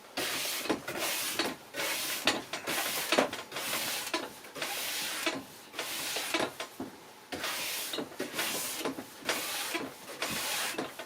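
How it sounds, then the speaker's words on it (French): Soft nylon-bristle brush scrubbing along waxed skating skis, repeated rhythmic strokes roughly every second, close and steady with no talking. "cette fois-ci j'utilise la brosse avec du nylon à poil souple"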